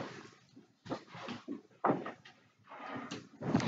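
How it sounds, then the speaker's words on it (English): A door being shut in a Minecraft Hide and Seek game on the Hive server: a few short clattering, knocking bursts in quick succession, fairly quiet, with no talking. "I shut my door."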